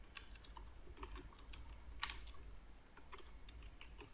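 Faint, scattered keystrokes click on a computer keyboard as text is typed into a form field, light irregular taps over a steady low background hum.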